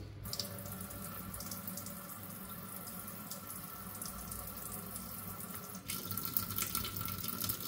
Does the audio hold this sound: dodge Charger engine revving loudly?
no